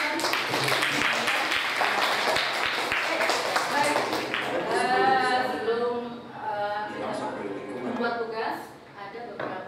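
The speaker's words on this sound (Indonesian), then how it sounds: "Tepuk tangan untuk Sharon." A classroom gives a round of applause for Sharon, with dense clapping at the start that gives way to voices talking as the claps thin out.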